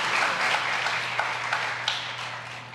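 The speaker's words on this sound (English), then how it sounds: "Can we get one more round of applause for them?" Clapping from an audience thanking storytelling panelists forms a dense, moderately loud wash that eases off toward the end, over a steady low hum.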